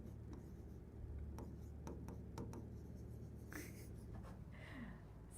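Handwriting on a board makes faint scratchy strokes in short bursts against a quiet room, with some soft breathing.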